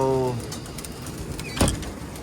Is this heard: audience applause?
no